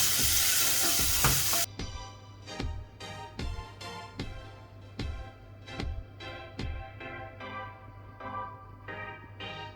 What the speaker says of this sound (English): Then I'll add in our chopped onions. Stir this together.